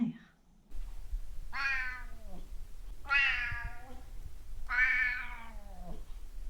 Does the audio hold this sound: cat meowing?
yes